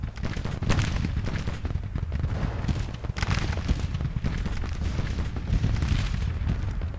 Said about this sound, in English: Our artillery is now battling Confederate artillery that has set up over here